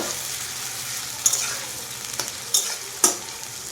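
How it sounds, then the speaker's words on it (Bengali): Onions fry in hot oil with a bay leaf in a pan for a homestyle chicken curry, a steady close sizzle broken by several sharp scraping stirs of a spatula. "এরপর পেঁয়াজটা খুব ভালোভাবে ভেজে নেব"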